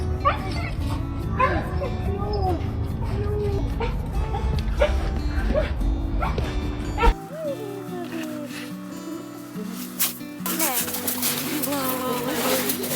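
A loyal dog greets its returning owner with high whimpers and yips mixed with sharp barks, close and excited, while people talk over the commotion throughout.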